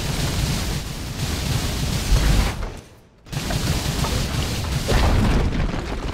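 A tower collapses in the Dota 2 video game with a loud, broad, rumbling boom. The sound drops out briefly, then the heavy crashing noise returns and carries on to the end.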